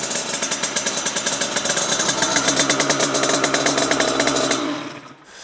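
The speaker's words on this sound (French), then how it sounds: "Ta moto démarre, Calvin." A 50cc motorcycle engine starts and runs close by, with a loud, rapid pulsing two-stroke-style rattle. It holds steady for about four and a half seconds before cutting off abruptly.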